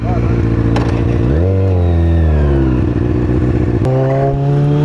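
A Kawasaki ZX-6R sport bike idles close by, a steady loud engine hum with a couple of small rev changes, someone talking over it.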